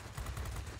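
Machine gun fire from the rear gunner of a Blenheim F in World of Warplanes, a short dense burst of rapid rattling shots, fairly faint and with no talk.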